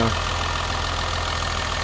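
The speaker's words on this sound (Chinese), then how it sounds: "所以它怠速很稳定， 而且调整非常灵敏" Mercedes W116 280SEL engine idling after its fuel distributor and injectors were repaired, a steady low rumbling idle with an even pulse, loud and close, no talk.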